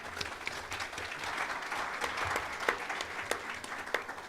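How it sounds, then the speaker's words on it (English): Audience applause at a tech conference session, dense steady clapping from a crowd lasting throughout, heard from a distance and fairly quiet. "A round of applause for her tonight."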